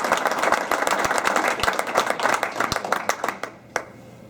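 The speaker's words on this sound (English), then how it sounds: "before we do that, one round of applause." A round of applause from a small gathering at a corporate celebration, a few seconds of scattered, fairly close clapping that thins out and fades to a last few claps.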